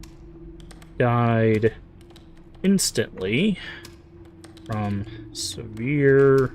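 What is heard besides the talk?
in-game typing sounds, Dead Letter Dept. video game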